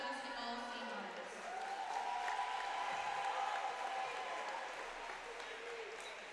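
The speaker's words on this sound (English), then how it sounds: "Please give another round of applause to these girl basketball seniors." Soft, distant crowd applause ripples through a high school gym during a girls' basketball senior recognition, a steady patter of clapping under a faint public-address voice and hall murmur.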